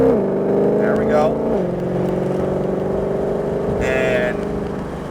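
A Ford Shelby GT500 Mustang accelerates on a race track, its engine droning loudly with a drop in pitch partway through, as a gear change would produce, then a steady climb, while someone talks over it.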